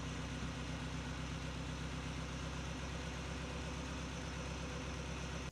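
A Ferrari 308 engine idles steadily after a carburettor mixture adjustment, a constant low rumble with an even throb that holds unchanged throughout and no voices.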